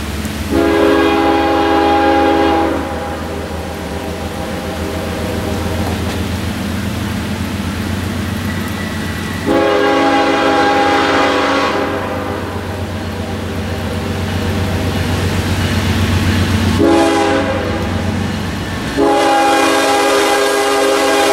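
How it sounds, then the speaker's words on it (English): Freight train on the Pittsburgh Line near Huntingdon, Pennsylvania, rolls past with a steady low rumble while its horn blasts in three long, loud harmonic bursts. "Continuing west toward Altoona, we visited Huntingdon and caught four freight trains."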